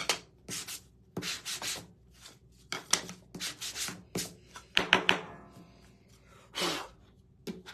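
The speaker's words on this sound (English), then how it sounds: "This probably is taking the longest, y'all, the sanding." Repeated sanding strokes rasp against a wooden crow craft piece in irregular bursts of scratchy rubbing, close and moderately loud, separated by short pauses and occasional small knocks.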